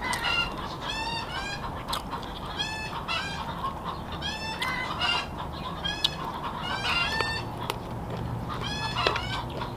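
Chickens clucking and squawking repeatedly in a rural home yard, several birds calling in overlapping bursts over a steady background hum, moderately near with no talk.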